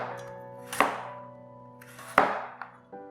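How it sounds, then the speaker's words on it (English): A knife cuts through a carrot on a cutting board. Two sharp, ringing chops land about a second and a half apart, with lighter taps after them. The sound is close and clear and nobody talks. "Cut off a small piece off the side."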